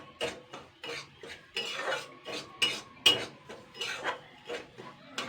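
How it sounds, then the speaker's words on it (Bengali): Water poured into a pan of semolina (sooji) fried to medium for rasgulla, then stirred, with repeated scraping and clinking of a spoon against the metal pan. "এবার আমি এতে জল দিয়ে দেবো।"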